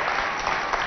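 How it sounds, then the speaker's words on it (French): Audience applause at a televised competition show as two candidates are accompanied to their seats; dense, steady clapping from a crowd, loud and continuous throughout the short moment. "je vous demande encore d'applaudir une fois de plus pour accompagner nos 2 candidats à leur place"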